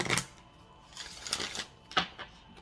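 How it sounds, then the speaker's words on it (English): Soft, riffling bursts of tarot cards being shuffled, several quick flurries separated by brief pauses, close and fairly quiet. "Last shuffle for Scorpio."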